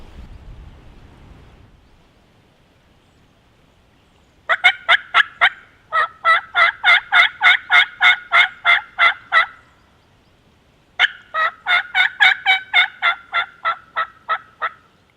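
A wild turkey jake gobbles in two long rattling bursts of rapid repeated notes, clear and fairly near in a quiet outdoor setting, with brief wind noise at the start.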